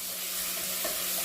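Garlic fries in a pan for a mushroom curry, giving a steady, soft sizzle with faint stirring scrapes, close and alone.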